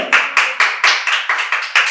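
A small audience claps for a prize-giver at a quiz competition at a medical college and hospital, with steady, loud, evenly spaced claps about four per second, close by.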